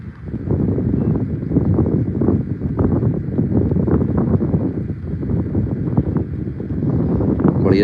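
Cool wind blows across an open green cricket ground during a T20 match, a steady close rushing buffet against the microphone that carries on without a break and sounds alone.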